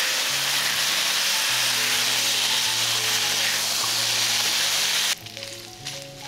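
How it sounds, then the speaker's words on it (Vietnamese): Pork belly stir-fries over medium heat in a pan with no added oil, a loud steady sizzle with stirring scrapes throughout that briefly drops in intensity near the end. "Mình cho thịt ba rọi vào chảo và đảo thịt trên lửa vừa."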